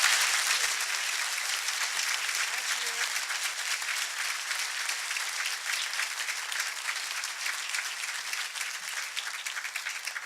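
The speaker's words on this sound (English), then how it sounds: "Let's give him a round of applause." Audience applause after a City Club of Chicago talk, a continuous wash of clapping that starts loudest and tapers slightly over ten seconds, with no voices on top.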